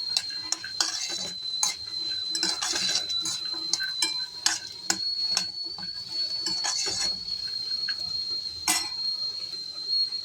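A spoon stirs garlic, cumin seeds and a little tamarind in a pan while peanut chutney is made at home. Repeated close scraping clinks against the pan sound over a steady faint high hum, with no talk.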